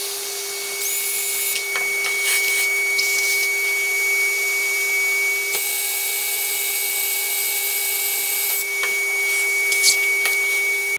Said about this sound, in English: I'm going to use a vacuum cleaner to just suck up the swarf